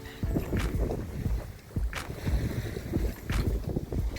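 Sailboat under mainsail and genoa crossing open sea from Portugal to the Azores, with rushing water against the hull and gusting wind buffeting the microphone in repeated swells.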